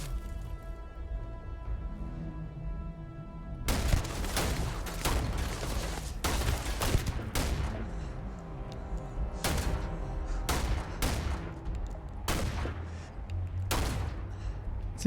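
Futuristic weapons fire in the space game Starfield, with sharp shots and short volleys bursting over a soft background hum, fairly distant and irregular, with quiet stretches between them.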